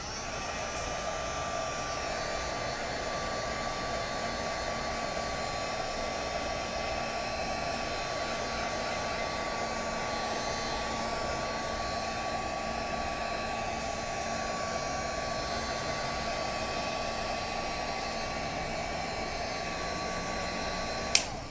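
A heat tool blowing steadily as it dries paint on cardstock made to look like old wood planks, a loud, even whirring hiss running unbroken and close for the whole stretch.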